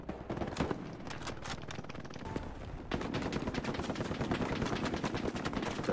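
Sustained gunfire from the Omaha Beach map of the video game Hell Let Loose, with dense, rapid bursts of shots, some close and sharp, and machine-gun fire that intensifies partway through, continuous with no talking.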